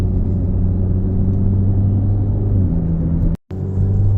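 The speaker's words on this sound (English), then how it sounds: "Normal acceleration, about a third of the pedal at most." A 2014-2017 Jeep Patriot pulls away under light throttle, its engine giving a steady, low rumble with a smooth rising drone and a momentary dropout near the end.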